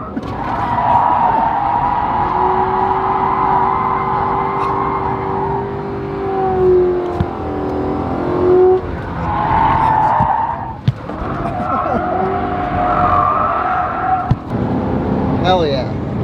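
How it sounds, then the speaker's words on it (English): A Tesla Model Y Performance spins through a J-turn with loud, sustained tire squeal and skidding that rises and wavers over several seconds. Engine and road noise run underneath, and people talk throughout. "So what you do is you go hard backwards, flip around the front, full power."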